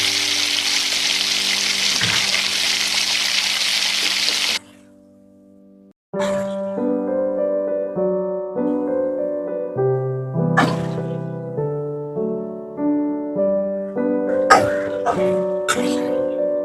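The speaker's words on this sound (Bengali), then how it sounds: "এবার এগুলোকে ভালো করে ভেজে নেব।" Six halved hilsa fish heads fry in hot oil with a loud, steady hiss for about four seconds, then the sound cuts out and music plays.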